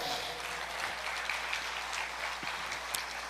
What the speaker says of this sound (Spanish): Dele un aplauso a Jesús, por favor.